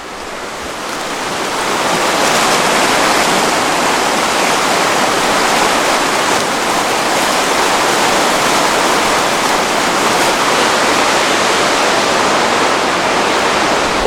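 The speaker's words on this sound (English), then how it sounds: "check out this water, spring runoff here, just crazy" Spring runoff water rushes beside a hiking trail, a loud, steady roar of fast-flowing water that swells in the first two seconds and then holds constant, with no voices.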